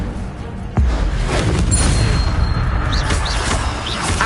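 An Incendio fire spell cast in Hogwarts Legacy bursts with a loud, close whoosh and boom, then a sustained roaring crackle of flame with scattered bangs of combat around it.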